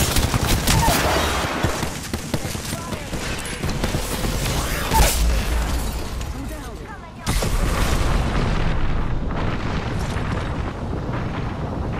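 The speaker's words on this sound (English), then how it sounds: "Opening fire" Video game gunfire plays as a dense, sustained fusillade of shots mixed with heavy booms and explosions, loud and continuous with a brief dip midway.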